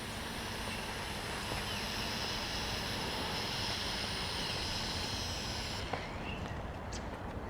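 An LM RC LM01 WiFi quadcopter drone sets down to land, its propellers giving a loud, steady high buzzing whine that holds throughout and eases slightly in the final second or so.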